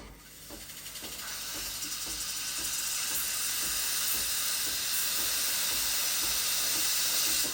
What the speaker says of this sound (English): So I'm going to turn on the steamer.